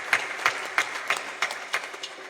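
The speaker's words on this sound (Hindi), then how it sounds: "तालियां बजाकर धन्यवाद देते हैं।" A few people clap in thanks at a Navratri devotional gathering, with about eight distinct claps in a slow, even rhythm, moderately close.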